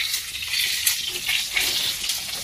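Food frying in a pan while cooking for a birthday gathering, a steady close hiss and crackle of sizzling oil that holds without pause and without talk.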